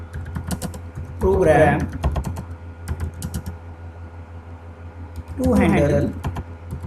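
Computer keyboard typing, steady clicking keystrokes throughout while someone talks over it in two short bursts.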